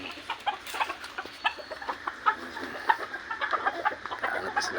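Chickens clucking in a farm backyard, close by, with a flock of short repeated clucks and murmurs overlapping continuously, fairly loud over a low background rumble.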